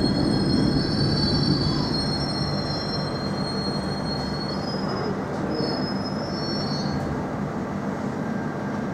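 A London Underground Circle Line S7 Stock train rumbles steadily between King's Cross St. Pancras and Mansion House, with high, wavering wheel squeals rising over the loud continuous rolling noise inside the carriage.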